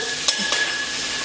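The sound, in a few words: garlic sauteing in a pan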